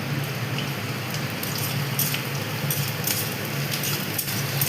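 Onions fry in a pan as they turn red-brown, giving a steady, close sizzle and crackle with faint scraping from the stirring spatula.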